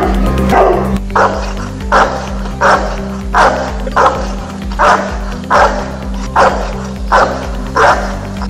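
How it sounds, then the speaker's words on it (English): A large mastiff-type guard dog, a Boerboel or Dogue de Bordeaux, gives a series of about eight deep, loud barks at a steady pace, roughly one per second, over a low droning background. "Powerful and loudest bark. Let's hear it first and we'll decide accordingly."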